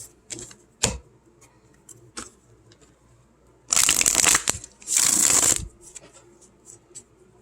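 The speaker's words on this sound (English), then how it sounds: "That wasn't a very good shuffle though" Tarot cards shuffled close by, with light taps and flicks leading to two loud riffling bursts, each about a second long, followed by a few soft card clicks.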